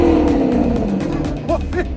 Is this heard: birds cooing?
no